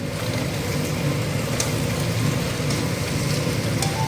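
Jackfruit and fried paneer sizzle steadily in hot oil in a pan, a dense, even crackle that stays loud and constant with no voices over it.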